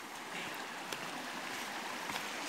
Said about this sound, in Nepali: यो चुँदी खोला